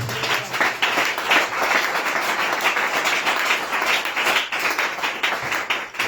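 A church congregation applauds steadily for about six seconds after a French-language sermon, a dense, even wash of many hands clapping with no pauses.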